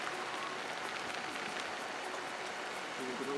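Steady rain falls throughout, a dense even patter with no pauses, heard close by on a rainy day at an outdoor scout troop camp.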